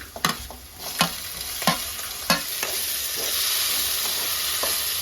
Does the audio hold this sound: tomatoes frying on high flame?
yes